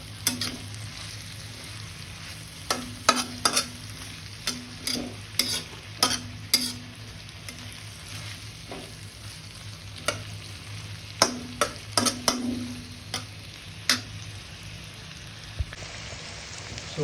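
Chicken 65 mixture cooking in a pan, a steady oily sizzle punctuated by repeated scraping clinks of a spoon stirring against the metal, close and without talk.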